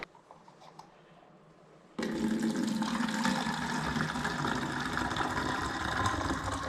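Film fixer is poured into a developing tank during home film processing. After two seconds of quiet, a loud, close, rushing flow starts suddenly and continues steadily to the end.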